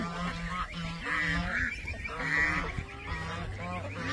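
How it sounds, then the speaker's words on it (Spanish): Geese honk repeatedly in a noisy outdoor scene, a chorus of nasal calls overlapping one another at moderate distance. "Mire los gansos, mire."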